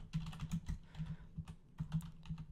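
Rapid computer keyboard typing while entering a recipe search in a modded Minecraft session, clustered bursts of close, crisp key clicks with brief pauses, no talk.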